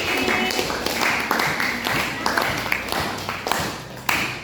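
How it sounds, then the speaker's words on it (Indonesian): Audience applause for a classroom presenter, a dense continuous patter of hand claps filling the room, moderately loud with scattered sharper claps and some voices mixed in. "kasih aplaus untuk Tampi"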